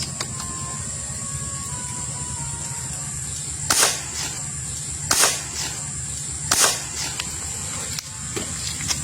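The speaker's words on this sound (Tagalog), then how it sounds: "Para naka-silencer. Napakahina ng putok." A silenced toy fishing speargun fires three soft, brief snaps a second or so apart over a steady background hiss and low hum, with no one talking.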